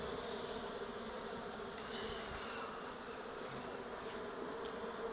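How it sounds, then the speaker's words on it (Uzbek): Honeybees buzzing at an opened hive, a dense steady drone of many insects close by, even and continuous throughout with no talk. "Bu arilar, mana bu yerdagi arilar"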